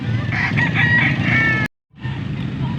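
A rooster crows loudly and close by in a long wavering call at a gamecock gathering in Pampanga, cut off by a short silence before a farmyard background returns.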